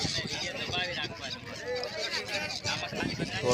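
Seabirds call and squawk faintly as they follow a boat at sea off Bet Dwarka, mixed with people talking and steady background rumble.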